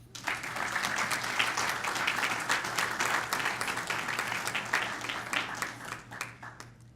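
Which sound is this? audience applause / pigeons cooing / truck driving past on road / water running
audience applause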